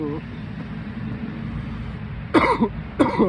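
Two short, harsh cannabis coughs ring out close by, one after another, over a steady low rumble of background noise.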